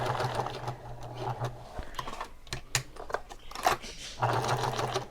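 A sewing machine stitches a handbag with white thread, its rapid mechanical whirr running in bursts that stop and start, with a pause in the middle and brief handling clicks between runs.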